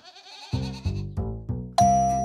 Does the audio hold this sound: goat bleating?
yes